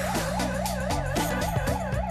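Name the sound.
construction site warning siren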